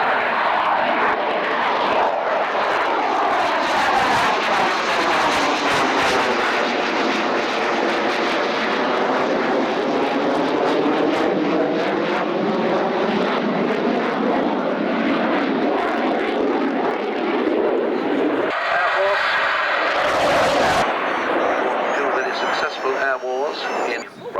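A fixed-wing aircraft makes a landing pass at the 1988 Biggin Hill air show, its engine roar loud and sustained throughout as it sweeps past, with the tone shifting near the end.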